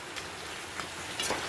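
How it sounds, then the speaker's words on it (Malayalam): Heavy rain pours down as a dense, steady hiss that fills the brief moment, with a slight swell near the end and no voices. "എന്തൊരു മഴയാണ് വന്നത്."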